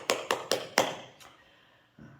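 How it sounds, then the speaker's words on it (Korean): A church congregation gives a short burst of applause, four distinct claps ringing out and then fading, followed by a brief low murmur. "우리 박수로 축복하겠습니다"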